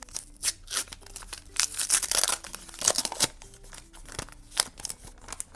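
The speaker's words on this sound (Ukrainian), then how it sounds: "І сьогодні ми відкриваємо пакетик з цим песиком." Crinkly tearing and rustling of a small paper packet being opened up close, with irregular bursts of crackling and scraping.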